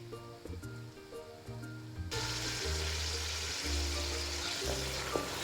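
Chopped tomatoes hit a hot pan for a tinda dish and break into a sizzling fry partway through, a close broadband hiss that holds steady over a low tonal hum.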